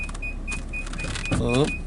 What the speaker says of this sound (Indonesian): Mobil mundur dulu.